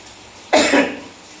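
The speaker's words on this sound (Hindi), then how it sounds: "खांसी आ गई।" A single short, sharp cough up close, breaking a quiet background and fading quickly.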